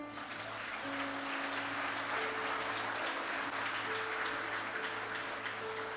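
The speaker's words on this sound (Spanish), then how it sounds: "¿Cuántos le aplauden al Señor?" Church congregation applauding steadily and loudly throughout, a dense continuous wash of clapping with a low sustained tone beneath.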